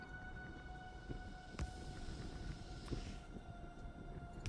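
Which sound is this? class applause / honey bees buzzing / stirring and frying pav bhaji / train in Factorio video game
train in Factorio video game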